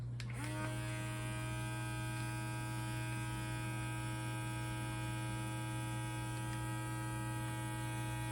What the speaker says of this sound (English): with the sealer bag, you just put it in the hole to suck the air out